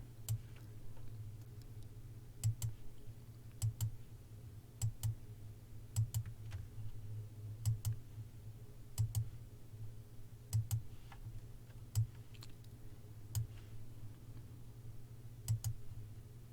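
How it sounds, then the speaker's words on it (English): Sparse, crisp computer mouse clicks while selecting areas in GIMP, single and double clicks spaced irregularly a second or two apart over a low steady hum, close and fairly quiet with no speech. "If you hold the shift key down constantly, all you have to do is just go around and click."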